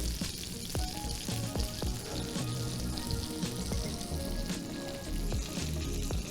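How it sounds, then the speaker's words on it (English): Vegetables sautéing in the same pan as a Patagonian toothfish fillet, with a busy, loud, continuous sizzle and crackle close up, broken by occasional sharp pops and the knock and scrape of stirring. "The good thing about sautéing your vegetables in the same pan as the fish is that it will take on"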